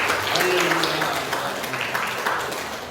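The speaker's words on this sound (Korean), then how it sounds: "영광의 박수를 한번 올려드리겠습니다" A church congregation at a Sunday worship service claps together in a brief burst of applause, with a voice speaking over the clapping as it begins to fade.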